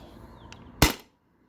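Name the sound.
modified Sabre 68 CO2 paintball marker firing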